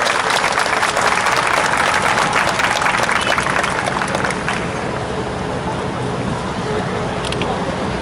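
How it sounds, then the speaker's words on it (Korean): Loud, sustained applause from a large crowd at a Sewol ferry disaster 500-day memorial rally, greeting a student song performance by Byeoksi School pupils; dense clapping fills the whole stretch and eases slightly toward the end. "큰 박수로 부탁드립니다."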